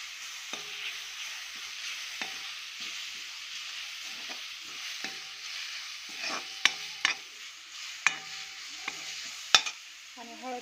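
Onion and green chilli masala fries in oil, giving a steady soft sizzle with intermittent stirring clicks and scrapes that grow sharper and louder toward the end.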